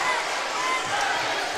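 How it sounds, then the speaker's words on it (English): Arkansas fans applauding at a girls' basketball all-star game in a gym, a steady wash of clapping and crowd noise that holds at an even level throughout. "the Arkansas fans giving their round of applause for the effort today"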